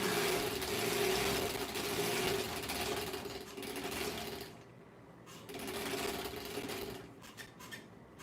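Fairly faint, steady sewing-machine stitching on fabric with a rhythmic mechanical whir, pausing briefly midway before starting up again, with light handling clicks near the end.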